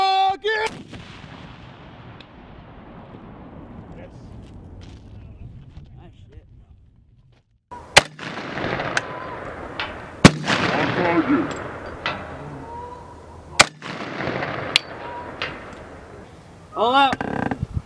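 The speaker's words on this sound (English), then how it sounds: "Actually, shoot the rocket is pretty cool." A B-300/SMAW shoulder-fired rocket launcher fires at a military training range, with a sharp, loud blast followed by rolling echoes and further booming reports and bangs, and voices calling out in between.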